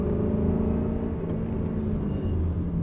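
Car engine accelerating during a driving lesson, a close steady low rumble and hum of the motor under throttle, no talking.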